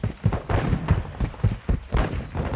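Rapid gunfire in Call of Duty: Modern Warfare 2, a steady run of close, punchy shots with no voices over them.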